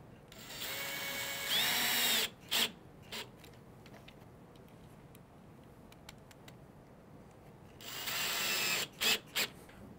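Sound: screw being driven in with a drill

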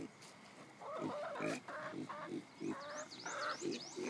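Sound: pig

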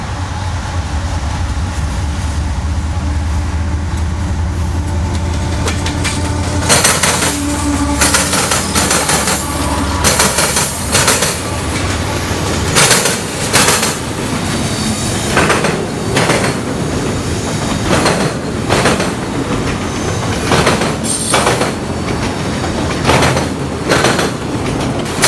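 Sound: CSX freight train Q410 passing at speed

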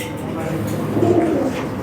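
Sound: pigeons cooing

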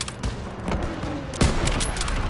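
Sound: rifle gunfire in a D-Day video game

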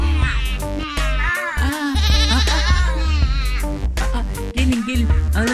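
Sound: child imitating lamb bleating in a pretend game

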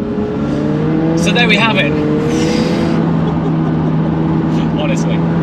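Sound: McLaren 720S car exhaust and engine revving

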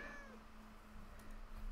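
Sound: cat meowing in the video game Minecraft

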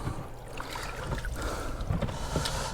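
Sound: motor boat passing on the Dnieper river

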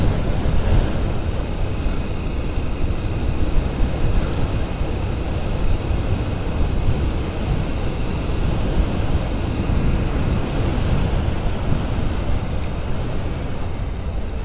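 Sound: wind while riding a motorcycle

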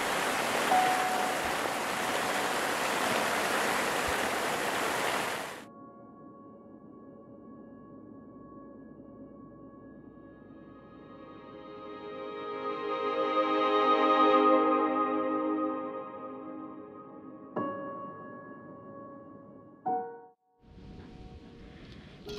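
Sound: heavy rain downpour at a riverside campsite

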